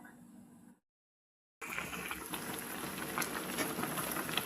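Sinigang shrimp soup bubbling in a pot, a brief faint sound cut by a moment of silence, then steady close boiling and bubbling that grows slightly louder.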